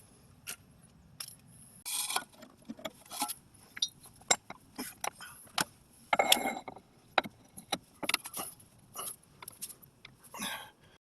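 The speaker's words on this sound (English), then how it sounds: "And then we just screw the new inner tie rod in." A new inner tie rod is screwed into a Toyota steering rack, giving sparse metallic clicks, clinks and tool knocks at irregular intervals, quiet and close with no talking.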